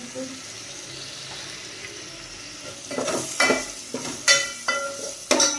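Tomato and masala cook in a pan on a home stove, a soft bubbling simmer that then turns into a series of louder scraping, clattering stirs near the end.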